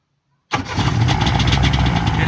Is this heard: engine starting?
yes